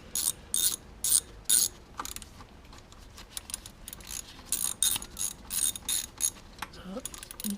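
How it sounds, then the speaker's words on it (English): A ratchet fitted with extensions loosens 12mm bolts on a 1991 Toyota Celica GT, giving repeated bursts of rapid clicking at close range, separated by short pauses, with a faint clink near the end. "So just shove some extensions on my ratchet and we'll get this unbolted"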